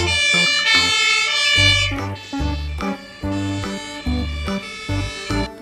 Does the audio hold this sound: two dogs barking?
no